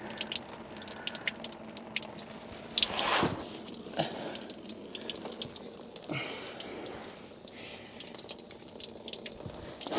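Water drips and trickles beneath a Case 850D bulldozer under repair, close splashes and irregular drops over a low background hiss, with no one talking.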